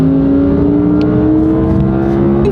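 A McLaren sports car accelerates hard past an Audi R8 V10 Performance. The engine note is loud and close, a steady rising drone with no talk over it.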